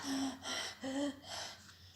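A voice imitates gasping for breath after playing badminton, a few quick, wheezing in-breaths in an uneven rhythm, close and fairly quiet.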